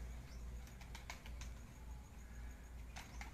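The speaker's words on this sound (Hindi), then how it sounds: "ये एक कबूतर निकला है उड़ने के लिए" Faint bursts of wing flapping, a pigeon released from a cage on a rooftop in Sheikhupura taking off, with quick flutters in short clusters against quiet background hiss.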